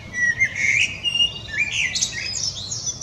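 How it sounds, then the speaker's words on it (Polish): A common blackbird sings in a Polish spring: a steady run of clear, bright whistled phrases and chirps, near and fairly loud, with no other sounds over it. "nie wyobrażam sobie wiosny bez charakterystycznego jakże pięknego, całkowicie rodzimego i naturalnego u nas śpiewu kosa"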